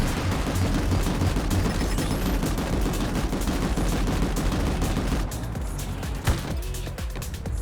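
Continuous bursts of gunfire in a video game, dense rapid shots with explosions and vehicle rumble underneath, loud throughout and thinning slightly near the end with one sharp crack.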